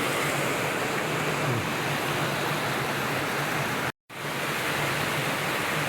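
A river in Luisiana, Laguna rushes with a loud, constant broadband roar, close and unbroken except for a brief dropout near the end.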